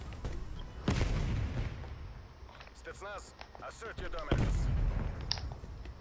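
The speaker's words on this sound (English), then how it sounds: "It's a grenade launcher." Grenade launcher shots in the video game Call of Duty: Black Ops Cold War, two loud booming blasts about three seconds apart, heard over continuous talk and other gunfire.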